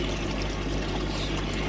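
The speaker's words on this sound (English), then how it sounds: "So the water comes out, will go back up the U-bend and back out over the pond." Water pours steadily from a pump-fed Nexus filter on a raised pond, returning over a U-bend into the pond, a continuous close splashing rush with no gaps and no voices.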